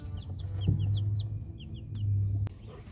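Chickens cluck softly in short repeated chirps over a low, steady hum, with a brief thud partway through.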